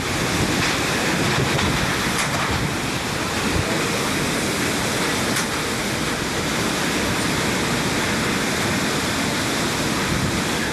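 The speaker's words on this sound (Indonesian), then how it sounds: "Hujan deras disertai tiupan angin kencang menerjang Desa Ngepung" Strong wind and heavy rain lash Desa Ngepung, a village in Nganjuk, East Java, as a dense, steady roar of rushing air and pouring water that fills the whole clip without pause.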